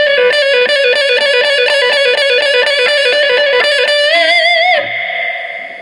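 Electric guitar through a Randall RG80 combo amp plays a smooth legato run of connected notes with effects and vibrato, loud and alone, before the final note fades.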